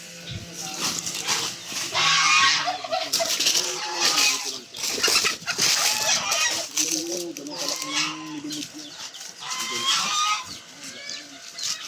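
Goose honks in a burst of repeated, harmonic nasal calls mixed with other fowl clucking and squawking close by, with human voices now and then underneath.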